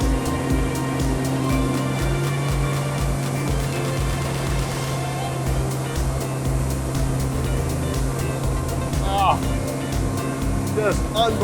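A 2025 Axopar 25 Cross Top motorboat runs at 35 knots and turns hard to port, with a loud, steady outboard engine drone, rushing water and wind noise throughout and a brief voice near the end.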